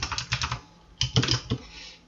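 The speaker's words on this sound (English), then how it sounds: "time for my super loud keyboard to get some action" Loud computer keyboard typing in two quick bursts of clattering keystrokes, close to the mic, separated by a short pause and trailing off at the end.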